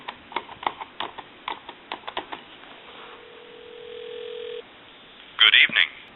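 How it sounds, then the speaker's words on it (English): An original model Mickey Mouse telephone clicks through rotary dialing in a string of sharp pulses, then a brief steady tone and a loud chirpy ring burst follow near the end. "And I'm going to call a time and temp number."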